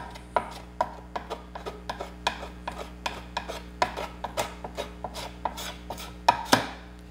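Repeated rasping strokes of sanding on body filler on a Commodore SX-64 keyboard case, a steady series of scratchy scrapes close up with no talking.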